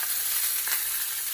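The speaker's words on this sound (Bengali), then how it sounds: "এই যে মাছ ভাজা হচ্ছে, দেখো" Fish fries in a pan with a continuous, close hiss of sizzling oil, steady and even throughout, with no voices.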